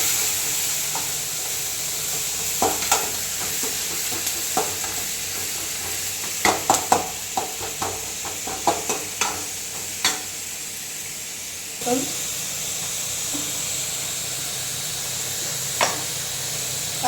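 Onions fry in a pan, giving a steady sizzle, while a utensil scrapes and stirs in scattered clicks and knocks that come close and fairly loud throughout.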